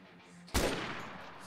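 A single sharp gunshot in the video game DayZ, a sudden loud crack followed by a short decaying tail, heard alone without talk.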